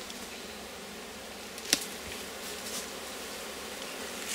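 Honey bees buzz softly around a Rose hive, a faint continuous hum with a brief sharp click partway through and occasional rustling.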